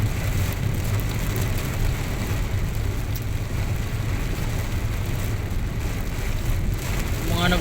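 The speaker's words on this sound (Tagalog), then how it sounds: "Grabe, ang lakas ng hangin." Storm with strong wind and heavy rain on a road, a loud continuous roar of wind and pouring rain throughout, with a faint voice underneath.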